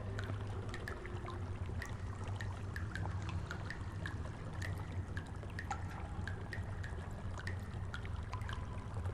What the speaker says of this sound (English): now we're like waist deep in shit and piss water